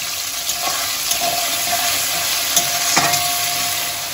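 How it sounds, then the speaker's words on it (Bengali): Chopped tomato and coriander leaves frying lightly in a pan for katla fish curry, a continuous loud sizzle with a few soft stirring knocks, nobody speaking. "এটা একসাথেই আমি এটা একটু হালকা ভেজে নেব"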